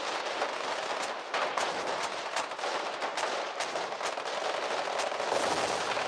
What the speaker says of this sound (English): You heard the explosion, I think.